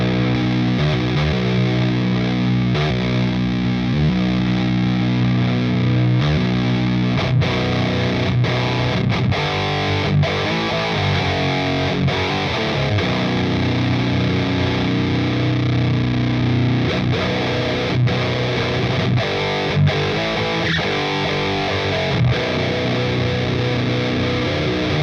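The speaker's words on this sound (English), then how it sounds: "we need the overdrive as well. So when we activate this, it should sound way different." Electric guitar driven through an Audiority Solidus VS8100 Marshall Valvestate-style amp plugin with overdrive on, dense sustained distorted chords and riffs playing continuously and loud with no talking.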